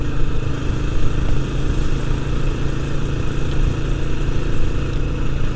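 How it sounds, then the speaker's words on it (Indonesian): An old Honda CBR motorcycle engine runs close and loud, a continuous throbbing rumble that stays at an even pace with no talk over it. "suka banget sama suara mesin CBR ini"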